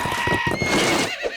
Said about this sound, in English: Gallop like the wind horse, Jimmy's in trouble!